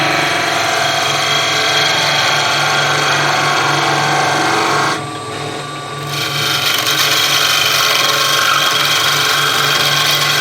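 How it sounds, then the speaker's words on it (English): A skew chisel planes spinning wood on a lathe, producing a steady, loud shearing hiss with the lathe's hum beneath, briefly dropping away for about a second before resuming alone. "Planing."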